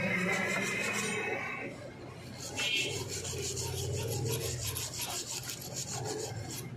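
Teeth of a digital scale part being cleaned during a repair, a close, continuous rasping and rubbing scrub with a few brief squeaky scratches, alone with no speech.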